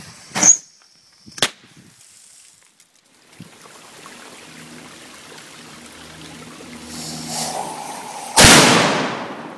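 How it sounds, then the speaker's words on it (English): Explosions and firecrackers going off: two sharp pops early on, then a low rumble that slowly builds, ending in one loud close blast that fades into a long tail. "Here's a compilation video of explosions"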